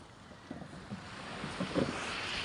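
Strong monsoon wind at sea on a small fishing boat. A steady roar of wind noise sits over the rushing water and waves, with some heavier gusts along the way and no talking.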